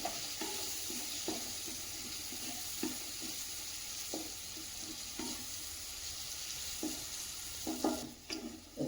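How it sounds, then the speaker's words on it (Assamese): A spoon scrapes and stirs chicken with turmeric and cumin powder in a hot pan, soft steady sizzling under regular scraping strokes, close and fairly quiet. "হালধি আৰু জিৰা পাউডাৰ দিলোঁ। এটা লৰাই দিছোঁ"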